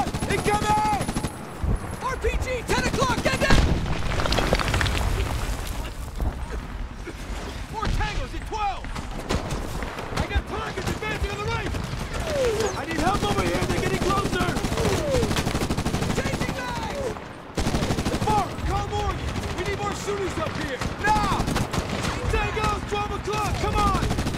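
Battlefield gunfire in Medal of Honor 2010, rapid bursts of rifle and machine-gun fire layered with shouting soldiers and combat noise, loud and nearly continuous.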